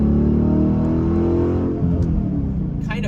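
A Dodge Challenger SRT's engine revs loud and deep from inside the car while driving, a steady growl that shifts pitch partway through.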